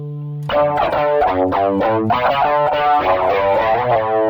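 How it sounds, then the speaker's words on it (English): Electric guitar through a humbucker pickup with gain and a chorus doubler playing a sustained, harmonically rich distorted phrase of several shifting chords and notes, loud and alone. "I like the sound of the chorus doubler, why not?"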